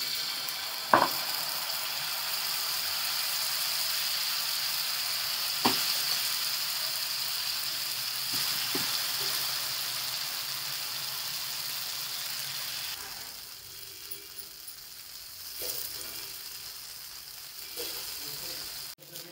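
Rajgira flour chilla fries in ghee on a hot griddle, giving a steady, bright sizzle that hisses continuously. Occasional soft clicks and scrapes come through, and the sizzle eases slightly toward the end.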